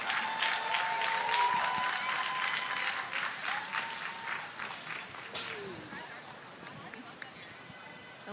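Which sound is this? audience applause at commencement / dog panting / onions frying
audience applause at commencement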